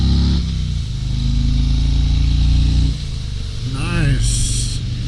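A 2022 Harley-Davidson Road King Special's engine rumbles close by, dropping in pitch, then settling into a steady idle before a sharp throttle blip revs it up and back down, with a brief high whine near the end.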